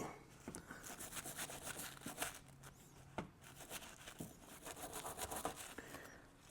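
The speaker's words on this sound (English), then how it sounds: "Got a wire brush here, guys, as I said. So clean it up a little bit." Wire brush scrubbing rusty engine mount parts from a 2006-2011 Honda Civic sedan, a steady close scratchy rubbing with a few sharper strokes and knocks, no talking.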